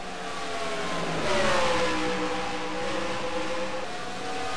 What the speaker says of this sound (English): Mitch Wilson in that 89 Menards car.